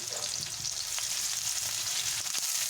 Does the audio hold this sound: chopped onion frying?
yes